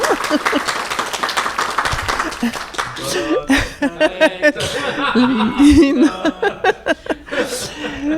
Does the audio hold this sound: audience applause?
yes